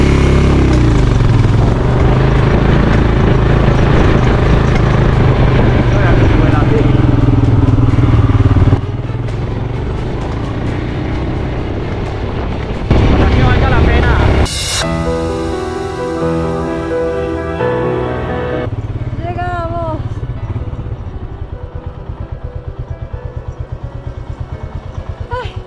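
A motorcycle engine rattles and labors loudly on a steep incline on the way into Caracas, Venezuela, a steady close engine drone with clattering, shifting in pitch midway, while people talk over it.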